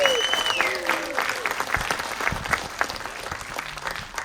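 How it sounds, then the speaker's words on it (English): An audience at an astronomy event in a university planetarium applauds, brisk scattered clapping that starts strong and tapers off, with a few faint tones in the background. "Please give another round of applause for everybody who decided to come up tonight."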